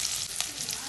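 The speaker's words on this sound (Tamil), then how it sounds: "சின்ன வெங்காயம், பச்சை மிளகாய், கருவேப்பிலை தாளிக்கிறதுக்கு போட்டாச்சு" Shallots, green chili and curry leaves sizzle in hot oil as a tempering for a tamarind kuzhambu, a dense, steady hiss of frying held close throughout with no voices.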